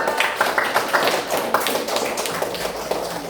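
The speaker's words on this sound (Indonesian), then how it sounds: "Tepuk tangan dulu untuk kelompok 4." Students in a classroom clap for group 4, a group applause with distinct, somewhat rhythmic hand claps, fairly close and moderately loud, with no speech over it.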